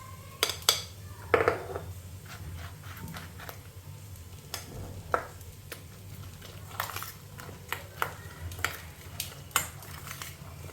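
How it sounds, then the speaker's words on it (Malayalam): A spoon stirs ground coconut paste into fried okra for kichadi, making quiet, irregular clinks and scrapes against the cooking pan with soft pauses between strokes. "വെണ്ടയ്ക്ക വറുത്ത് വെച്ചിരുന്നതിൽ നമ്മൾ അരപ്പ് ചേർക്കുകയാണ് കിച്ചടിക്കുള്ള"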